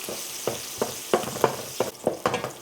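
Chopped onion fries in hot oil with a little salt in a pot, a steady sizzle broken by regular scraping stir strokes about every half second, close and moderately loud with no talking.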